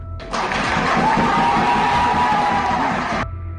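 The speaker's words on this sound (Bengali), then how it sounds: "বিচারক ঘোষণা করলেন ফাঁসির সাজা পুরো কোর্টরুম ফেটে পড়ল তুমুল হাততালিতে" A Dhaka war-crimes tribunal courtroom erupts at a death sentence verdict against Sheikh Hasina: a loud roar of crowd cheering, whoops and clapping. It bursts in abruptly, holds for about three seconds and cuts off sharply.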